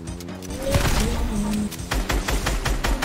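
Rapid, repeated gunshots crack in quick bursts during an online video game firefight, layered over a busy game soundscape with talk around them.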